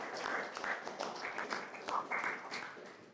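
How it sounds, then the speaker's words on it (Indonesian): Classroom applause for a student named Raffi, a steady patter of many hands clapping together for about three seconds, moderately loud with no voices over it. "Kita beri aplaus untuk teman kita Raffi."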